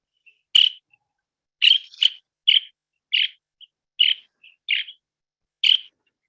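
Sandpipers from mudflats give short, high chirping flight calls, about eight clear notes spaced irregularly over a silent background, close and distinct.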